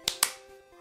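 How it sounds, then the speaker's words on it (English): Two sharp hand slaps land in quick succession as a double high five, crisp and close, followed by quiet room tone. "That's it was a double high five."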